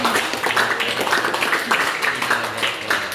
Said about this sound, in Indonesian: Ya tepuk tangan dulu lah untuk dia